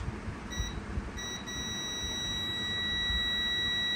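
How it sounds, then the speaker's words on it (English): A thin, steady electronic beep from a multimeter in continuity mode, probing a MacBook Air logic board, sounds continuously and faintly over a low background hum, without any breaks. "let's check in resistance beep mode"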